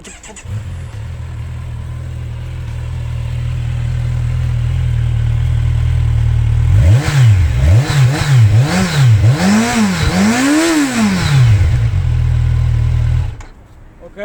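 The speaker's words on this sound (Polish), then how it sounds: "Zobaczmy po prostu, odpalamy motocykl serii." An idling Kawasaki motorcycle engine with stock exhaust rumbles steadily, then a series of sharp throttle blips rev it up and down repeatedly before it cuts off.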